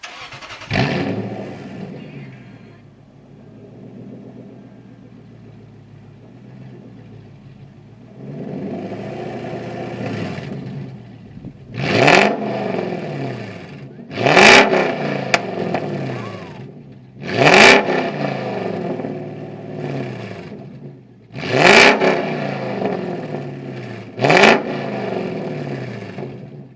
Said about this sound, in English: we're going to do a quick, a few little revs